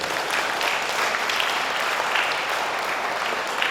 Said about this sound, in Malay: Berikan tepukan kepada semua.